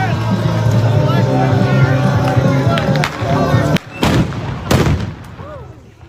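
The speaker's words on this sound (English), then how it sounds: "somebody launched a firework" A firework launches at a street protest, first heard as a sharp crack and then several loud bangs that cut through a busy, noisy crowd. People are talking, and a whistling tone follows the bursts.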